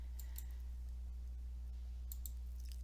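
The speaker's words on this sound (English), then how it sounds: "and then right click" A few small, sharp computer mouse clicks come in quick pairs over a steady low hum, quiet and close, with no voices.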